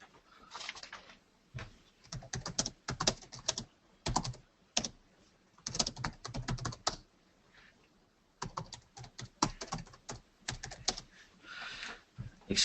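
Multi-line text is keyed into an AutoCAD Electrical 2016 drawing on a computer keyboard, giving bursts of quick, soft clicks split by short pauses, close and fairly faint throughout.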